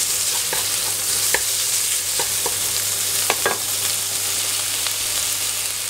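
Minced pork stir-fried for holy basil glass noodles, scraped and broken up in a hot pan: steady close sizzling with scattered spatula clicks and scrapes, no voices.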